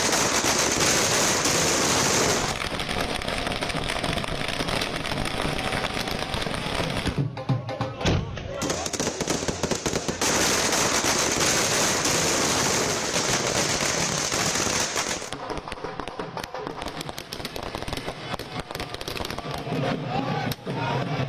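Firecrackers and fireworks bursting in a dense, continuous crackle through night-time Delhi election-victory celebrations, loud and near, briefly thinning mid-way before resuming at full intensity.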